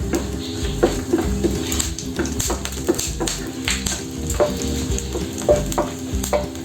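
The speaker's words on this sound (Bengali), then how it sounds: "শুকনো লঙ্কা, দারচিনি আর 2টো এলাচ ফাটিয়ে রেখেছিলাম ফোড়নে দিয়ে দিলাম" Dried red chillies, cinnamon and cardamom crackle and sizzle in hot oil up close for an egg curry, while a utensil stirs and taps against the pan in an irregular rhythm.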